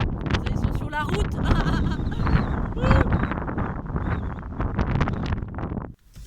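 Gusty wind blows outdoors on a road near two loose horses that have escaped their field, rumbling and buffeting the microphone steadily throughout. A voice talks over it.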